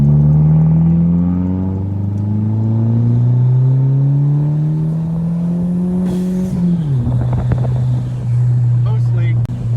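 A 1.8T turbocharged car with a big turbo accelerates hard through rising engine pitch, then lets off as a boost pipe leak hisses and whooshes with each shift, recorded from inside with wind noise and brief voices.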